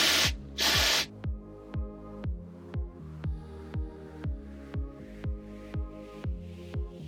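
Dry shampoo sprayed into hair roots: two close, loud hissing bursts open the sequence. A long run of regular, evenly spaced mechanical clicks follows.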